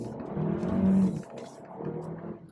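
A Hyundai Kona small SUV pulls away with its all-wheel drive lock on; the engine note swells and builds for about a second, then drops, and a moderate hum returns later.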